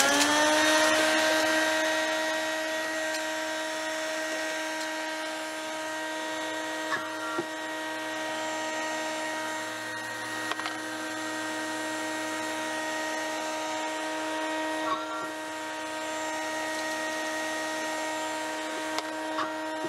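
Dillon power trimmer with a modified Lyman die forming .300 Blackout brass from .223 cases, a steady loud motor whine with a sustained tone throughout and occasional small clicks as cases are fed.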